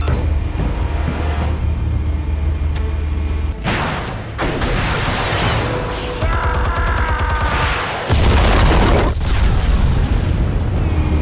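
Explosives detonate in the Batman Shadows video game, with heavy booms and a sustained loud roar of blasts and debris over a rumbling in-game soundscape.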